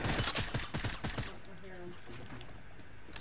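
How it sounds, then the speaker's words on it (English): Rapid gunfire from the player's weapon in the video game Fortnite: a quick string of about ten loud, sharp shots over the first second, followed by quieter game ambience and faint voices. "That's me shooting."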